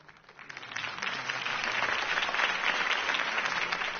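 Sustained crowd applause at a campaign rally in a Batman PS4 video game, a dense wash of clapping that swells in the first second and then holds steady and fairly loud throughout.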